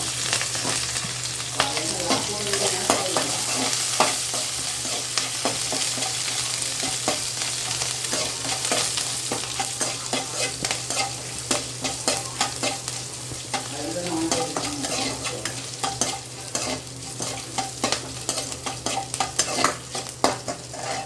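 Dried red chillies and onion fry in a pan for a valaipu keerai poriyal, giving a loud, continuous sizzle with crackling pops and frequent stirring scrapes over a steady low hum.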